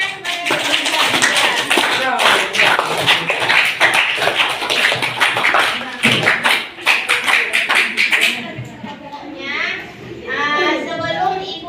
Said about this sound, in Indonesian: Tepuk tangan kepada